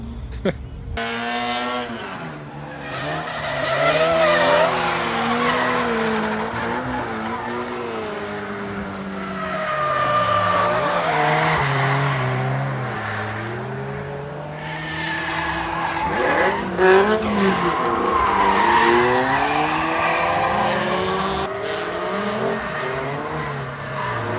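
Toyota GT86 and GR86 cars drift in Japan, tires squealing and engines revving through a long run, rising and falling in pitch, with a voice talking over much of it.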